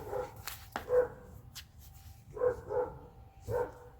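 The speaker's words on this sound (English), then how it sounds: "Oh boy, dogs are barking, so now Sam's going to come up" A few dog barks come in short bursts from moderately far off, spaced apart by quiet gaps, with low background rumble.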